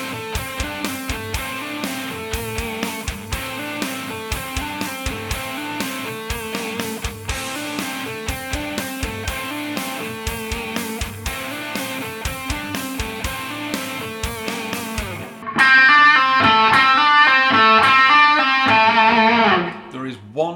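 A fast rock lick on electric guitar runs across two strings, quick even picked notes repeating for about fifteen seconds before a louder, brighter burst of sustained, ringing notes near the end.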